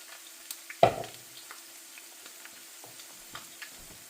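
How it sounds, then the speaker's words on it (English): Spoonfuls of potato latke batter cooking in a pan give a soft, faint sizzle with scattered light ticks and one brief louder knock early on. "We're just doing nice big spoonfuls of our batter, and we're going to let those cook for a few minutes"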